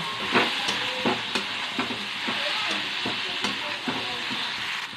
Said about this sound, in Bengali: আলু ভেজে রেখেছিলাম, সোয়াবিন ভেজে রেখেছিলাম, ওটা দিয়ে দেবো। দিয়ে ভালো করে নেড়ে নেব।